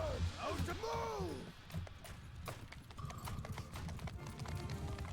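Cavalry horses in the Bannerlord video game thunder forward in a steady clip-clop of many hooves, while shouted battle commands and crowd noise sound over the top.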